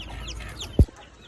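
A hen clucks once, a short, close and fairly loud note that stands out from quiet ambient noise.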